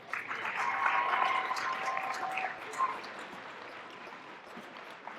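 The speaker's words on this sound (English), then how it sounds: "Let's give them a round of applause." At a balloon fiesta awards brunch in Albuquerque, the audience gives the event volunteers a round of applause, a steady wash of clapping that swells early, stays fairly even and tapers off toward the end, heard from across the room.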